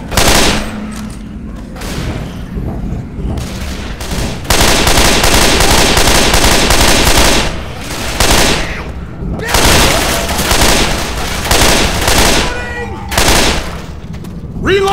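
Heavy gunfire in the zombie shooter Left 4 Dead 2, loud rapid bursts and sustained volleys of shots with short pauses between, with in-game voices shouting.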